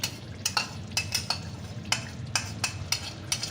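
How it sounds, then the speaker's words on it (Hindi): Onions frying in oil get a homemade paste of two tomatoes for an aloo matar vegetable curry, with a low continuous sizzle broken by repeated sharp spoon scrapes and clinks against the pan, close and without talk. "अब ये जो टमाटर का मैंने पेस्ट तैयार किया था 2 टमाटर का, वो मैं इसमें डाल दूँगी"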